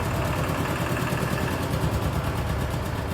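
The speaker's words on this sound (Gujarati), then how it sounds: "જો મારું ટ્રેક્ટર આવી ગયું છે, બહાર જઈને બતાવું જો." A tractor engine runs steadily outdoors, a dense continuous rumble at an even level with no talking over it.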